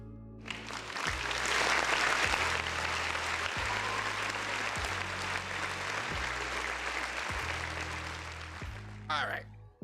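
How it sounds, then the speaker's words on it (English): A crowd claps in sustained, loud applause over a thumping rhythmic beat, with a voice briefly audible in the background. "round of applause for the folks in the chat"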